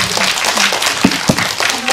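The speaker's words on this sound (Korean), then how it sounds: "한마디 한마디 하실 때마다 박수가 이어지네요." An audience at a film festival talk session applauds in a brief burst of steady clapping, fairly loud and close throughout.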